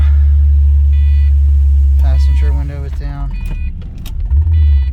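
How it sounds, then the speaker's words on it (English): Power windows on a 2004 Pontiac GTO whir up with the engine idling, a steady low rumble beneath the motor's hum, while a voice speaks briefly over it. "Put the windows up."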